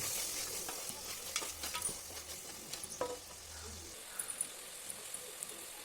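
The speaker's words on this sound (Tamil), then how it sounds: "நல்லா கிளறி விடுங்க." Tomato rice with chopped tomatoes is stirred in a hot pan, giving a low, continuous sizzle broken by repeated soft scrapes and clicks of the spoon.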